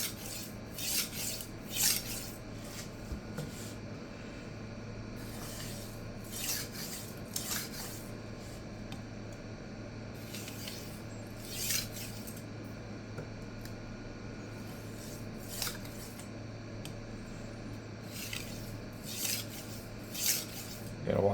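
A 52100 steel chef knife hardened to 61.5 HRC is drawn across a resin-bonded diamond stone, giving repeated raspy scraping strokes in a steady back-and-forth rhythm, close and clear with no talk.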